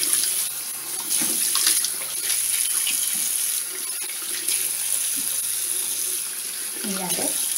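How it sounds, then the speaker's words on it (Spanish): Lukewarm tap water runs steadily into a sink while a face is rinsed, a continuous hiss with occasional splashes and a faint voice in the background. "Ahora los vamos a lavar con agua templada, no caliente, por favor,"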